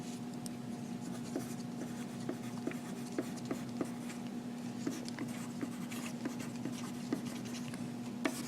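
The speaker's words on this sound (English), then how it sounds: "on our first flap with one of my colored pencils, I'm going to go ahead and write parallelogram across the top" Colored pencil scratching across paper as a word is written in steady strokes, soft and close, a quiet continuous scratch with small repeated ticks and no voice.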